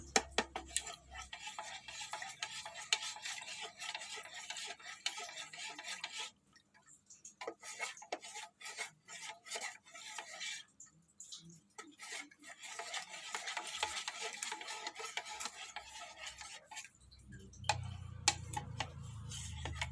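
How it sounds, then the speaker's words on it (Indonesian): Soap and water are stirred together in a container while making a degreasing solution for galvanizing electroplating: continuous quiet scraping and clicking strokes, a brief softer lull partway through, then a low rumbling near the end. "Dan kita aduk dulu. Sapunya campur dengan air."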